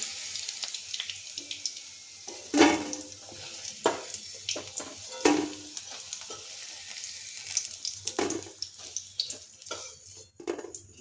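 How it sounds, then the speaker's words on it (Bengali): Five-spice seeds (panch phoron) fry and get stirred in hot oil left from frying green banana, giving soft sizzling with a few sharp clicks and scrapes from the utensil at a moderate distance, no talking. "ওই তেলে দিয়ে দিচ্ছি অল্প 5 ফোড়ন। ফোড়নটা 30 সেকেন্ড মতো নেড়ে নিচ্ছি।"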